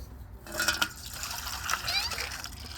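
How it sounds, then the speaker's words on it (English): Water poured by hand on a farm, a soft, close trickling and splashing that comes and goes, with someone speaking quietly under it. "let me just add a little bit of water here"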